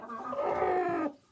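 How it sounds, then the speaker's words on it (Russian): A broody hen clucking in a coop: a single drawn-out, close, moderately quiet cluck lasting about a second, with no other sounds around it. "Вот эта курица квохчет, но не садится."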